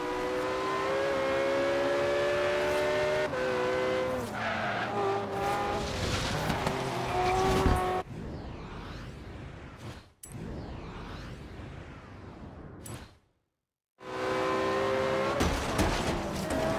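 A race car in Forza Horizon roars through a championship race, engine revving up and down through gear changes with tire squeal, then the sound cuts to brief quieter gaps before the engine returns.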